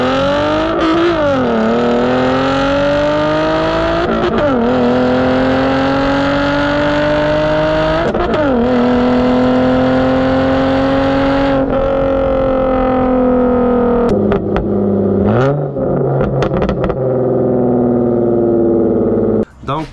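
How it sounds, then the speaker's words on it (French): Hyundai Genesis V6 car with a loud aftermarket exhaust setup, revving repeatedly: rising and falling engine pitch in several sweeping pulls over a steady loud drone, close by and continuous with no talking. "la Genesis V6, ouais, c'était très loud son setup"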